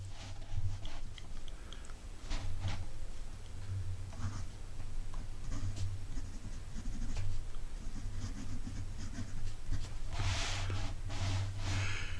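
Fountain pen fitted with a 6mm stub nib writing in green ink on paper. Close, steady scratching strokes with brief pauses between letters, a low hum running underneath, and no talking.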